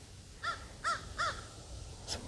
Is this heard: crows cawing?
yes